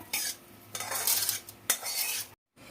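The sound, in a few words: fried vermicelli tipped from a wok onto a plate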